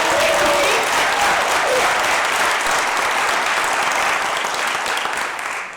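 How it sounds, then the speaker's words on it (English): A crowd at a school district's State of the Schools address gives a round of applause for students, a full, even wash of clapping that tapers slightly at the end. "let's give a round of applause to our students"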